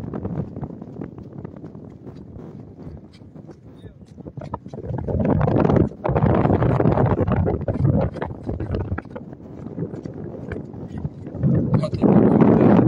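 A boat travels across the wide Jamuna river at Bhuapur, Tangail. Steady low rumble and rushing water mix with buffeting wind on the microphone, swelling louder midway, and muffled voices can be heard.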